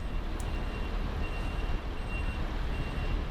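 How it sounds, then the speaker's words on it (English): A dump truck backs toward a loading site for pond stone, its reverse alarm beeping steadily over a constant low engine rumble, close and continuous with no talk. "spin the truck around, and then back in myself to the loading site"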